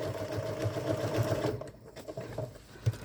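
A sewing machine zigzag-stitches a decal onto denim, its steady mechanical whir running close and continuous with a rhythmic needle chatter, easing slightly partway through before picking back up.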